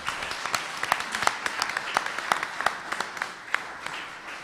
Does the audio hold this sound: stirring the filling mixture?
no